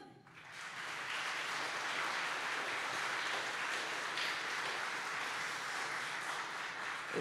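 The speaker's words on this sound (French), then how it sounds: "On peut les applaudir." An audience at a conference session on severe storms and tornadoes applauds the speakers, a dense, steady wash of clapping that holds evenly for several seconds from start to end.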